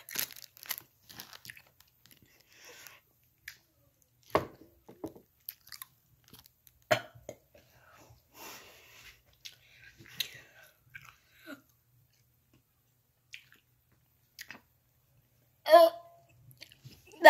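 Sour Toxic Waste candy is chewed close up, with scattered soft crunches and wet mouth clicks spread over a long, mostly quiet stretch, plus a louder burst near the end.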